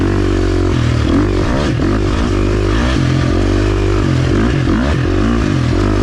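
A KTM 350 XC-F dirt bike is ridden hard, its engine revving up and down in loud, close, rising and falling surges. Clattering and scraping from the terrain run underneath the engine throughout.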